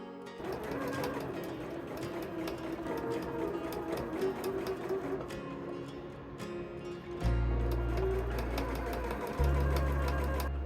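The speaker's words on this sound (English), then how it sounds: "I stitch down the center seam, and then sew down the lining that goes around the front and collar of the shirt." A sewing machine stitches a double gauze shirt seam and lining with a steady, fairly quiet whirring hum under background music, followed near the end by two deeper, louder low tones.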